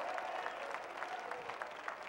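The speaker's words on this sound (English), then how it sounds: "Somebody put your hands together and begin to applaud the gospel of Jesus" A church congregation claps its hands in praise, a continuous, fairly distant patter of many hands with a soft crowd murmur beneath.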